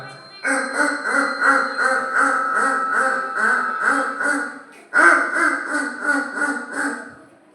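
A human voice imitates a duck during a mimicry act at a church feast-day celebration, producing rapid, rhythmic nasal quacks in two long runs with a brief pause between, close and clear.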